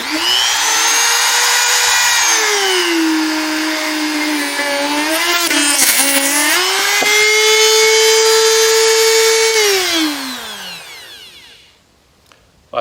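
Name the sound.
rotary tool sanding drum under heavy pressure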